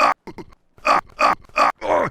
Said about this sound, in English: That's the sound of me getting killed by Beetlejuice.